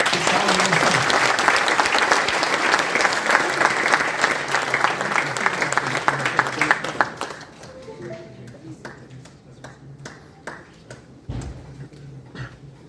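A university lecture audience gives a big round of applause to welcome the speaker, loud and sustained for several seconds before dwindling to scattered individual claps.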